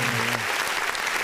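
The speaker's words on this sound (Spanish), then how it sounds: "Unos aplausos para ti, hombre." A brief burst of audience clapping for a sound technician at a live science show, dense and moderately loud, with a short voice tone fading out at the start.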